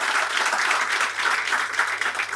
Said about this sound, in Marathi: सरांसाठी जोरदार टाळ्या